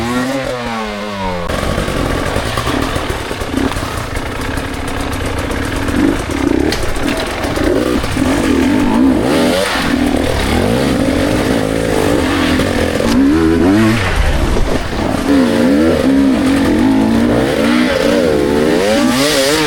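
A dirt bike engine revs hard as the clutch is dropped during a riding lesson in Singapore, a loud, continuous mechanical roar that rises and falls in pitch as the throttle opens, with no voices.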